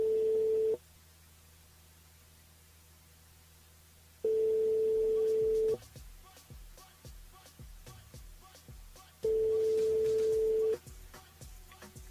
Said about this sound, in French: On appelle Vincent sur le standard du côté de la plaine des caves pour un débriefing en direct